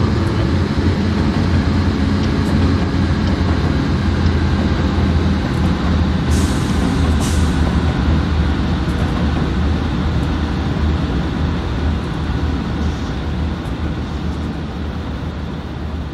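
Four ES44DC locomotives pull a freight train past on Marias Pass in snowy winter in Train Simulator 2017, a loud continuous low rumble and drone that fades slightly toward the end, with brief hissing bursts.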